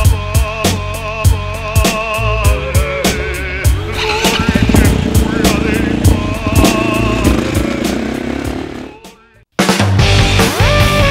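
A motocross motorcycle on a warm-up ride, its engine loud and close as it revs up and down through the gears, with a brief dropout before the roar picks up again.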